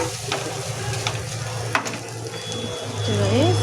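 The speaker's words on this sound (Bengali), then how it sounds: "আলু ভাজাটা একটু হয়ে যাবে" Potatoes fry in a pan in a home kitchen with a steady, close hiss and sizzle, broken by occasional scrapes of stirring and a sharp clink.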